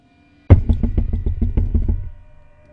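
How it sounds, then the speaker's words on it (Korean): Knuckles rap on a toilet stall partition in a rapid run of about a dozen hollow, close knocks lasting under two seconds, starting with one sharp hit and ending abruptly in a quiet room. "두드리지도 않는 오른쪽 칸에서 노크 소리가 들려오는 겁니다"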